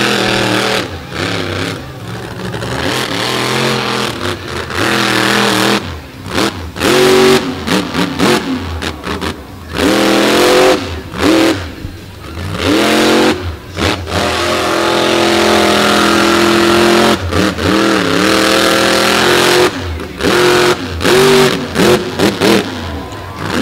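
A Silverado monster truck revs hard on a beach show track, its loud engine surging and dropping in repeated bursts with brief cuts between roars.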